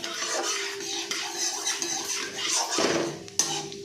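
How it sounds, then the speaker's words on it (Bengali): Cumin seeds tempered in a pan for daliya khichdi being stirred, soft scraping and clinking of a utensil against the pan over a light sizzle, with a sharp tap near the end. "জিরেটা ফোড়ন দেওয়ার পর জিরেটাকে একটুখানি মেশাতে হবে"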